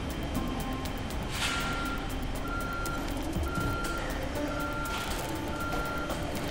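A transport truck backing up in Ghost Recon: Future Soldier: evenly spaced reversing beeps repeat over a loud, constant engine rumble and ambient noise, with no voices.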